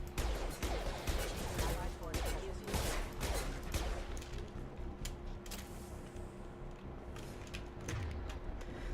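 Grenade launcher and gunfire in Mass Effect 2, the video game: a rapid stream of sharp shots and bursts, with heavier thuds mixed in, runs under a steady low rumble, dense and continuous, with a calmer patch near the end.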